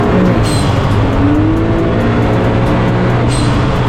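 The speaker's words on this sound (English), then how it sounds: "I continuously hear turbo flutter" A Can-Am Maverick X3 Turbo RR engine with an RPM blow-off valve kit roars loudly and close by, with a fluttering turbo blow-off chatter mixed into the continuous rush of noise.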